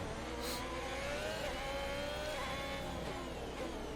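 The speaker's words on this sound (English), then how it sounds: "braking heavy into this corner" Haas Formula 1 car in the F1 2022 racing game, its engine whining steadily in a continuous close-up drone with shifting pitch as it brakes heavily into a corner at the United States Grand Prix.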